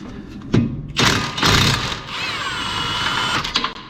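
A 13/16 socket wrench works loose a front brake caliper bracket bolt on a Volkswagen GTI Mk6, with close metallic clicks, thumps and bursts of ratcheting over a few seconds.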